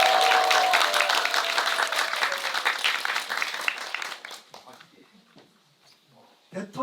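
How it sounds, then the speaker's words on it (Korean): An audience at a book concert applauds the elderly guests. Dense, loud clapping fills the first few seconds, then thins out and fades to scattered claps with some murmuring. "말 어르신들 위해 박수 한번 쳐주시죠"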